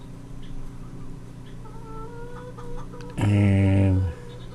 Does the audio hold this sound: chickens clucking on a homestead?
yes